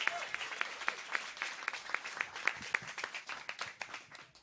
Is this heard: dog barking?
no